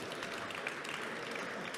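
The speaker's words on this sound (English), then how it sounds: "you can clap" Audience applause at the DMEXCO conference session on the metaverse, a brief, faint, steady patter of clapping with no voices over it.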